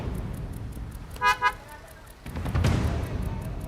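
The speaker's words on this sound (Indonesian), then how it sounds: "Oke, di klakson nih, jalanan macet." Car horn toots in a jammed street, two short close honks followed by rising engine and road noise of slow traffic around the vehicle.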